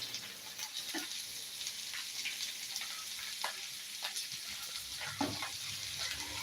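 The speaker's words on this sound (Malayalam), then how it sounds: "നമുക്ക് നന്നായിട്ട് ഇതൊന്ന് മുപ്പിച്ച് എടുക്കണം കേട്ടോ" Okra sautéing in a hot pan gives a steady close sizzle, broken by a few soft scrapes and clicks of stirring, with no talking.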